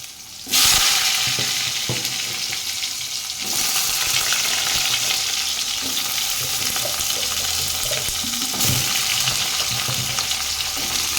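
Pointed gourd pieces drop into hot oil in a pan and fry with a loud, dense, continuous sizzle up close, punctuated by occasional spatters and stirring knocks.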